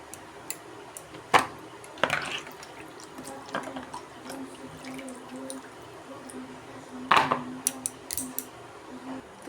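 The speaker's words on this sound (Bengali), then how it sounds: "তো আমি এবারে কুমড়াটা আমি ধুয়ে নেব" Water splashing as a sweet pumpkin is rinsed in a kitchen, with scattered sharp splashes and drips over a quiet background.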